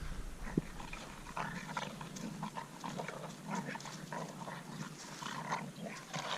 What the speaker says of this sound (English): He's a very vocal dog.